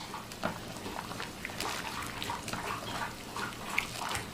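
Cabbage simmers in a large pot of water for cabbage rolls, giving a soft, steady bubbling with scattered small pops and gurgles, fairly quiet and close, with no voices.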